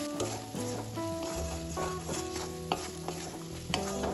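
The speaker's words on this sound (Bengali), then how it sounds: "এখানে দিয়ে দিলাম 1/2 চামচ ধনে ও জিরে গুঁড়ো, দিয়ে দেবো 1/4 চামচ মরিচ গুঁড়ো। ভালোভাবে এটা তেলে ভেজে নেব সবকিছুর সাথে।" Ground coriander, cumin and chili powder frying in oil in a pan, giving a steady close sizzle with repeated scraping and stirring sounds and occasional clinks of a utensil against the pan.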